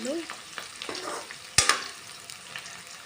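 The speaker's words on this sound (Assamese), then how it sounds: "এই পিঁয়াজখিনি অলপ সময় ধুনীয়াকৈ দি মেলি ভাজি ল'ম।" Sliced onions with five-spice fry and are stirred in a pan, a soft continuous sizzle broken by scraping spatula strokes and one sharp clack partway through, close and fairly quiet.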